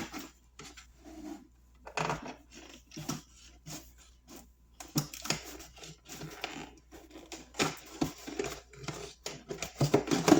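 Scissors cutting through a plastic bottle to make a feed scoop: a close series of crunchy, irregular snips and crackling plastic that grow louder and denser toward the end, with no voice.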